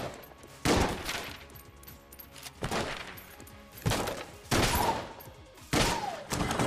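Shotgun blasts in Enter the Gungeon boom out in loud, separate bursts every second or so, with the game's background sounds continuing between the shots.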